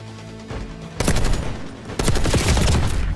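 Gunfire in the video game Call of Duty: Black Ops 6, two loud bursts of rapid automatic shots about a second apart, following a quieter stretch, with no talk.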